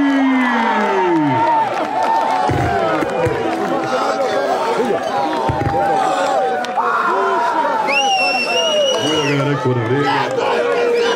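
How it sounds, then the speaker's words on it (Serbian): A crowd at a rural Bosnian event cheers, whistles and claps in a steady, dense roar, while an announcer talks loudly over the noise throughout. "vredi li ovo aplauz za publiko?"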